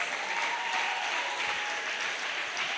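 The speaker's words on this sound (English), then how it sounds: "I don't know why you're clapping, but me, if I'm in your shoes, I will clap louder than that." Steady applause from an audience at an AI training graduation ceremony, a dense even wash of clapping holding at constant loudness throughout, fairly close, with no speech over it.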